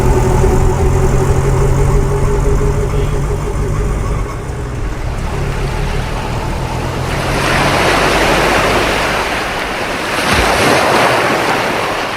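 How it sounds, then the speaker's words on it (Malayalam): Ocean surf rolling onto a seashore in a radio drama, a steady broad wash of breaking waves with gusty wind, swelling louder around the middle and again near the end, with no voices. "മാനസി ഇവിടെ അടുത്തൊരു കടൽ തീരമുണ്ട്"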